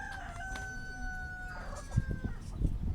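At a busy poultry market a rooster gives a drawn-out crow and other chickens cluck nearby, with scattered thumps and clatter from the surroundings.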